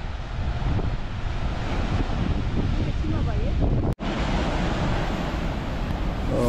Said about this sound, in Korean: 파도가 치고 하니까 바람 많이 불고 하니까 약간 살살하게 추워요.